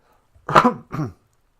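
A single sharp sneeze, close and loud, a burst followed by a short second puff, in otherwise quiet surroundings.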